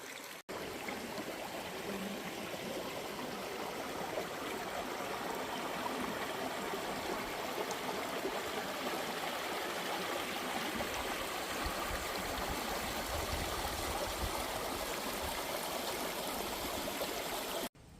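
Steady babbling of a small stream flowing continuously over stones, close by, with no voices.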